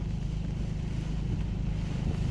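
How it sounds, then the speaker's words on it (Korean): Strong typhoon wind with rain blowing over a hillside pepper field in Namhae, a steady, loud roar of gusts and battering rain filling the whole stretch without pause. "비바람이 어마어마하게 칩니다"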